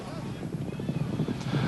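Racehorses break from the gate at the start of the Triple Bend Invitational Handicap dirt race, with a soft, rapid patter of hoofbeats under a faint wash of crowd and voices.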